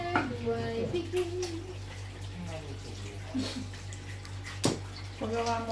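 Water trickles and runs from a leaking tap that stays on even when closed, a steady splashing flow with a few drips, while people talk nearby.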